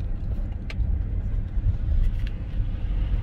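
An underpowered car drives a winding mountain road, heard from inside as a steady low rumble of engine and road noise with faint ticks and clicks, no voices.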